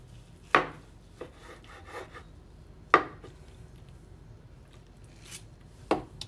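A knife slices through an herb-crusted rump roast, giving a few sharp, distinct cuts and knocks at irregular intervals against a quiet background.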